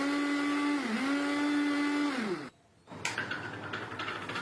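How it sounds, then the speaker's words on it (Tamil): A mixer grinder blending milk whirs loudly at a steady high pitch, dips once, then winds down and stops; a brief pause follows before clattering noise. "நல்லா மிக்ஸி ஜாரில் நல்லா ஓட்டி அரைச்சிக்கலாம்."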